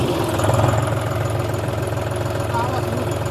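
A John Deere 5050D tractor engine idles in a steady, even chug, close and fairly loud, with a low rhythmic rumble throughout.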